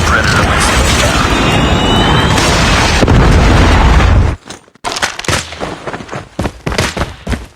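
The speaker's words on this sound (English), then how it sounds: "Friendly Predator missile inbound." A Predator missile explodes in Call of Duty Mobile during a sniper-only multiplayer clan war: a long, loud roaring blast rumbles for about four seconds, then cuts to sparse gunfire pops and clatter.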